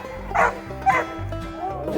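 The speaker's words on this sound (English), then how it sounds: "Hear them baying?" Hunting dogs bay repeatedly on the trail during a turkey hunt, a few loud, close bow-wow calls spaced through the moment with people's voices faintly mixed in.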